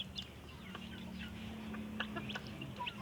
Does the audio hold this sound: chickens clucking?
yes